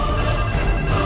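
A telephone rings in a domestic drama scene, a steady electronic ringtone that fills the short moment on its own, loud and close with no talk over it.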